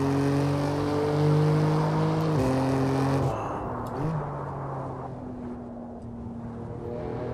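A BMW M racing car engine in the Assetto Corsa racing video game drones loudly, with pitch drops at each upshift before settling into a steady lower roar.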